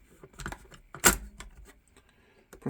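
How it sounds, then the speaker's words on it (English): A cassette tape is pushed into a 1975 Sony TC-136SD recorder, giving light plastic clicks and rattles, then one sharp clunk as it seats, with smaller taps after, close and fairly quiet. "So if I put a tape in,"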